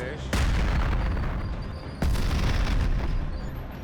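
Two heavy cannon blasts from a tank, about two seconds apart, each a loud boom followed by a long rumbling roar.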